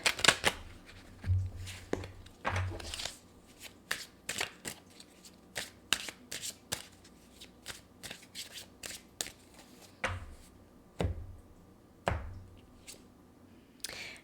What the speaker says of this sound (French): Je vais sortir 8 cartes.